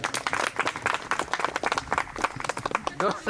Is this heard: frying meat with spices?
no